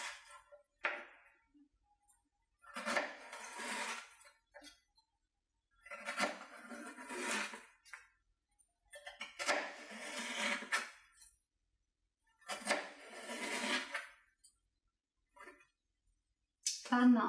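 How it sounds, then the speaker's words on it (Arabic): A knife cuts a pear lengthwise into very thin slices, making a series of soft, close slicing strokes in short separate bursts with quiet pauses between them. "رح أمسكها بالطول بهالطريقة وبلش قطع شرايح رقيقة كتير"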